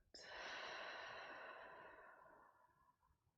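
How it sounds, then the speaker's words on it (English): A long, slow exhale released through the lips during a yoga session, starting abruptly with a soft breathy rush and fading gradually over about three seconds, close and alone. "We can just let the breath release out through the lips."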